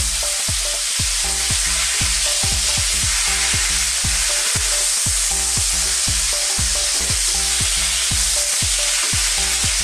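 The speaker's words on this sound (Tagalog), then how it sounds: "Lalakasan ko ang boses ko dahil yung volume ng mantika ay malakas din." Loud, steady sizzling of beef frying in hot oil, with repeated clattering of a utensil stirring the pan throughout.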